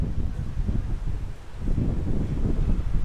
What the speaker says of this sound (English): you can probably hear a bit of wind now